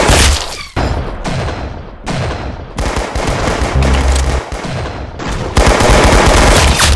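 Rapid automatic gunfire and heavy shots from the Arsenal video game, loud and nearly continuous in several bursts with brief gaps, and no voices.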